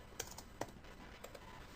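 Typing on a computer keyboard while writing a script for an interactive Vizrt graphics scene, heard as a few sparse, quiet key clicks spread across a short, otherwise near-silent stretch.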